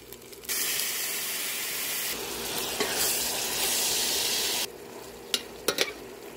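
Coconut milk simmering and bubbling in a pan with garlic, onion, ginger and smoked fish, a steady loud sizzling hiss that cuts off abruptly, then a few sharp clinks of a utensil against the pan.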